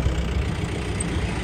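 A New Holland 3630 tractor working a field with a super seeder for wheat sowing gives a steady, low, rumbling engine drone, continuous and moderately close, with no voices.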